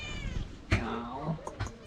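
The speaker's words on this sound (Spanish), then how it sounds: "Este es el gatito." A pet kitten meows near a home, a short rising-and-falling meow followed by a couple of brief softer cries, close and clear, with a little background talk.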